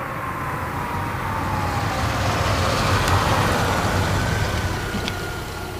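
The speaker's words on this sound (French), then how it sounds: "un vieil express dont le moteur faisait un bruit de casserole, venait de s'immobiliser à l'entrée d'un chemin boueux" Steady engine noise from an old Renault Express van on a muddy track entrance, a continuous loud rumbling drone holding level throughout, without a clear stop.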